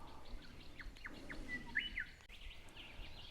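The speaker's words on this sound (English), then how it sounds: "There are a ton of birds here" Several birds chirp and whistle around a bush campsite, with short repeated high tweets and a brighter trill near the middle over a quiet, rustling outdoor background.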